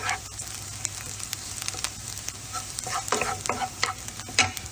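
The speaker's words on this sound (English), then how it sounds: "I'm going to saute that onion a little bit, just looking for a little bit of color on that." Onion sauteing in avocado oil, a continuous close sizzle with crackling pops and occasional stirring scrapes, steady and fairly loud with no voices.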